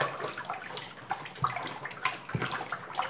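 Homemade bleach made with caustic soda being stirred in a container: steady liquid sloshing and swirling close by, with occasional small knocks and splashes, no talk.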